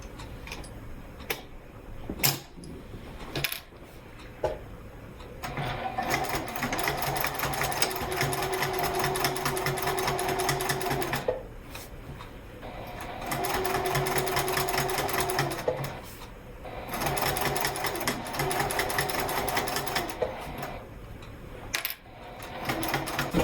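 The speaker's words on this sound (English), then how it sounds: "you're just stitching the flaps together" A sewing machine stitches the flaps of a fabric wallet together, running in several sustained whirring bursts broken by pauses, sharp clicks and handling knocks, close up and with no talking.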